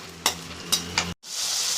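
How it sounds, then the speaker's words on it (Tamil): Turkey berries dropped into hot oil and sautéed in a pan, giving a few sharp stirring clatters over steady low sizzling, a brief silence, then a loud broadband hiss of frying with no talk. "எண்ணெய் காய்ஞ்ச அப்புறம் சுண்டக்காயை போட வேண்டும்."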